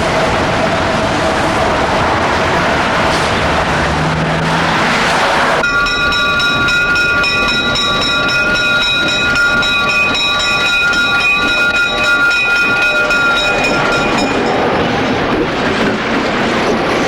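A commuter train on the Conrail or South Shore lines rumbles steadily along the rails, loud and close, with a bright tonal ringing that rises partway through and holds for several seconds.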